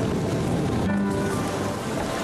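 Sailboat crossing the Atlantic Ocean in strong wind, heard as a loud, steady rush of wind and sea spray with wind buffeting on the microphone throughout, no voices.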